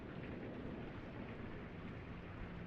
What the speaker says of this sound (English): Rain ambience, very nice